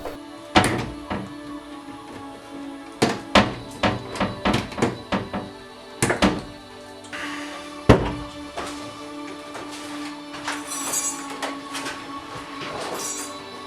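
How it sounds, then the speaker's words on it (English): Doors are being removed from a BMW E46 that is being stripped down for a race car build. A series of sharp metallic clunks and knocks echo in a garage, with clustered hits, a louder thud, and some rattling toward the end. "I took the doors off next to make it much easier to work on the wiring harness."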